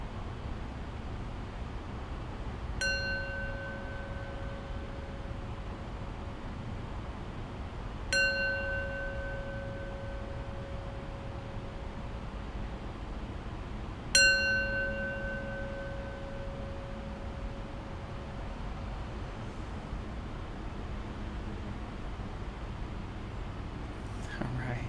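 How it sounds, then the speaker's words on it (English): A meditation bell is struck three times at slow, even intervals to close practice, each strike ringing out clearly and decaying over a soft background hiss. "I'll close practice with 3 rings of the bell."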